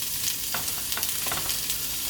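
Pork ribs sizzle and crackle steadily on a hot griddle, a close, continuous frying hiss with small pops and no voices.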